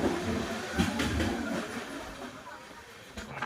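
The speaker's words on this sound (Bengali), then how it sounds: "আমরা এখন ট্রেনের মধ্যে করে টানেলের মধ্যে দিয়ে যাচ্ছি" Steady rumbling roar of a train moving through a mountain tunnel on the Vizag to Araku line, with faint rhythmic clatter of wheels and a few distant voices.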